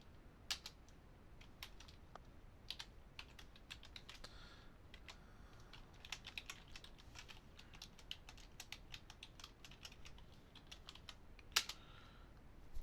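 Fingers type on a computer keyboard in a quiet room, with quick, irregular clusters of light key clicks and occasional heavier taps, close and alone.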